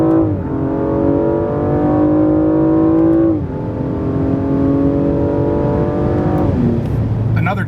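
A BMW M235i engine revs hard in clear rising sweeps, climbing in pitch, dropping sharply at each shift, then climbing again, loud and close with a throaty note.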